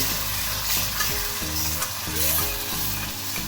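Tomato puree gravy with asafoetida sizzles steadily in a pan while a spoon stirs it, scraping and knocking against the metal in repeated strokes, close and continuous with no talking.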